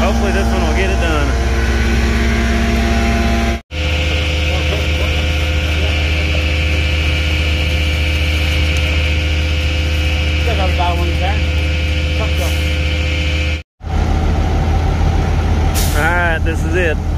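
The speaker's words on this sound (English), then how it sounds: "sucker truck, vacuum truck." A vacuum sucker truck's engine runs steadily at a concrete pumping job site, a loud continuous drone with high whining tones, broken by two brief cutoffs.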